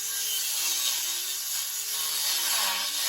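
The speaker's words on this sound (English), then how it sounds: "Now we're working on getting these cut down to size and then getting them installed." Metal bars being cut down to size make a steady, loud abrasive grinding and sawing noise with a faint wavering tone, continuous for the whole stretch with no talking.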